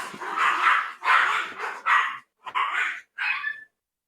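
A puppy barks and yips excitedly in a rapid series of five close, loud bursts, some stretched into whiny yelps, with short pauses between them and no talking.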